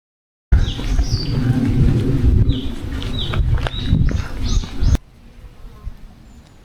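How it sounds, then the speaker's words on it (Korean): Birds chirp and coo along a wooded trail at Seoul Grand Park, bright repeated calls over a rumbling background, cutting off abruptly near the end. "걸으며 곳곳에서 들리는 새소리"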